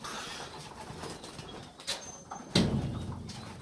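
Homing pigeons coo in a loft at feeding time, with soft low murmuring coos close by over a steady background rustle, then a louder burst of flapping or scattering near the end.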